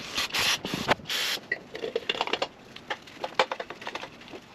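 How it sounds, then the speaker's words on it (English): A rag scrubs oil and old dirt off a Kawasaki ZX-10R motorcycle engine in quick, rough rubbing strokes. Longer swipes open the sequence, then shorter scratchy scrapes follow close and fairly quiet. "I'm going to take this opportunity to clean all the oil and old dirt off of here before we put the radiator on."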